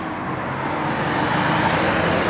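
A 1973 Dodge Challenger 340 V8 with chrome exhaust tips running, a steady loud broadband rumble that holds even and swells slightly toward the end, no voices.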